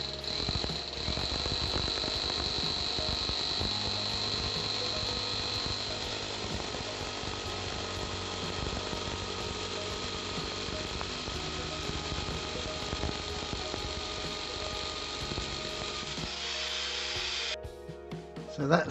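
A power tool cuts through a wooden floor joist in a loft, a loud, continuous, close-up whine and buzz lasting many seconds before it stops abruptly near the end, with a short clatter after.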